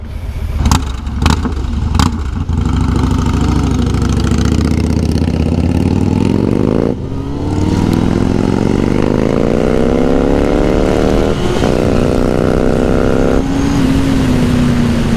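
A Kawasaki ZX9R motorcycle engine runs loud and close while riding, idling at first with a few blips, then pulling through rising revs with gear changes, no talk over it.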